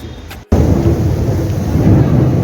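Heavy rain roars steadily after a brief dip at the start, a loud, dense rumble that sounds like thunder blended into the downpour, close and continuous.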